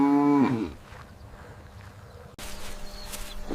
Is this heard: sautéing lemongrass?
no